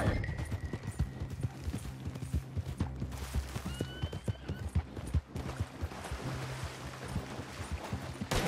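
Steady clip-clop of several horses' hooves in Red Dead Redemption 2 Online, a continuous rhythmic trot over an ambient outdoor bed with a brief whinny-like tone, moderately loud.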